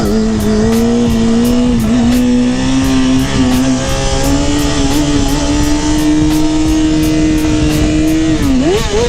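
A 636 motorcycle engine revving loudly and close for about nine seconds, with a steady high pitch that holds, rises gradually, then dips and climbs again near the end.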